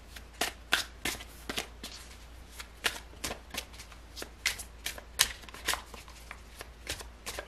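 Tarot cards are shuffled close up in a rapid series of crisp riffles and slaps, irregular bursts over faint background hum.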